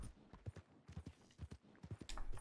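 Rhythmic clip-clop of horse hooves trotting in Red Dead Online, fairly quiet and steady, with a slight rise in noise at the end.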